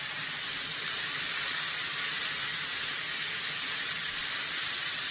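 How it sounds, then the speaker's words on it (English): Garlic frying in hot bacon fat in a pan, a steady, loud broadband sizzle with a bright hiss that holds constant throughout, no talking. "the garlic's going to be going into the bacon fat, and I'm going to be frying that off"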